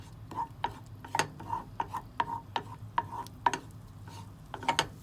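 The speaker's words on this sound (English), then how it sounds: "And we just saute this for a little bit." Garlic sautéed in a pan: a close, uneven run of metallic spatula taps and scrapes with short ringing clinks against the pan over a faint sizzle, with no talking.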